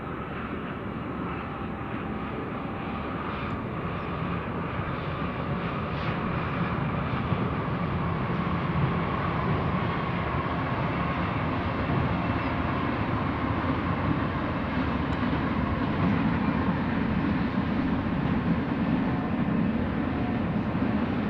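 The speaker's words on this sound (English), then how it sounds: "a train's coming." A train rolls past an abandoned cemetery in the desert ghost town of Ludlow, California, on Route 66, giving a steady, loud rumble with a broadband roar that holds for the whole stretch. No one speaks.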